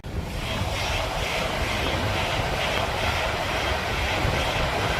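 Passenger train passes on the West Coast Main Line toward Edinburgh, a loud sustained rumbling roar with rhythmic wheel noise that holds steady throughout, no voices.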